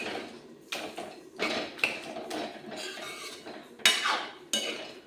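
Raw peas and bottle gourd being stirred in a cooking pan, with repeated scraping and clinking of a spatula against metal in short uneven strokes, close and fairly clear.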